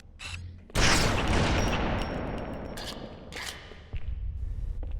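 Weapon fire in the Halo 2 video game: a loud burst of rapid shots erupts with a decaying crackling tail, then a second heavy burst arrives near the end, with no talking.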